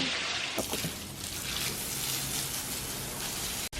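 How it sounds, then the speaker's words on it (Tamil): Water runs steadily from a tap in a home during cleaning, a soft continuous splashing gush after a brief start. It carries on at low level until a sudden cutoff at the end, with no speech. "தண்ணி."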